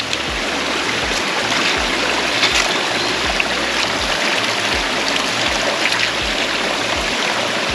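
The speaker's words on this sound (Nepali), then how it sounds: "अब यहाँ चाहिँ सानो खोला रहेछ पानी पनि आइरहेको छ" A small mountain stream on a trek from Chhimti to Panchpokhari. Water rushes and splashes in a continuous broad wash, close by, with a few low knocks or gurgles under it and no voices.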